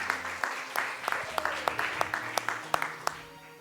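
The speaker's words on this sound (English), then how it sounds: "That deserves a little applause." A speedrun marathon audience gives a short burst of applause, a steady wash of clapping with sharp individual claps standing out, fading toward the end under a faint background voice.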